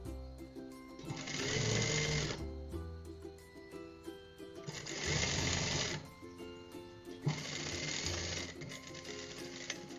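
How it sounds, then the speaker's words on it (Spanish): A sewing machine stitches fabric along a seam allowance in three loud, steady bursts of rapid mechanical whirring, separated by short pauses, with no talking. "Vamos a coser respetando margen de costura, rematando al iniciar"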